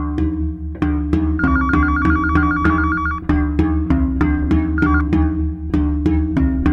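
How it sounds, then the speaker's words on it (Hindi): A telephone rings with a repeating electronic melody, loud and close, the tune cycling steadily without voices. "उसी डॉक्टर का ही फोन होगा अभिराज का, हम उठाते हैं।"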